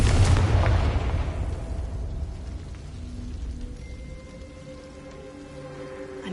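A Confringo spell explosion in Hogwarts Legacy bursts loudly at the start, then rumbles and fades into a long ringing decay with faint tonal hum, no voices.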